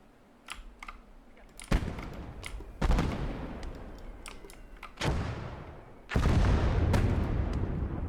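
Mortar rounds firing in the Gates of Hell: Ostfront war game sound as several sharp, loud cracks spaced a second or two apart, each followed by a rushing, fading rumble over quieter background clatter.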